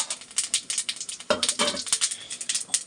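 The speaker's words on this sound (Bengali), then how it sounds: "এই যে তেলটা গরম হয়ে গেছে, একটু জিরে ফোড়ন দিলাম, গোটা জিরে।" Whole cumin seeds crackling in hot oil, a rapid crisp patter of sharp pops with a louder spitting burst partway through, close and alone.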